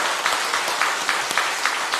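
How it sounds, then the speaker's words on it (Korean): Congregation applause in a Korean church service, steady broadband clapping from a crowd throughout, with rhythmic pulses as hands strike together in unison. "우리 하나 영광의 박수 한번 돌립시다."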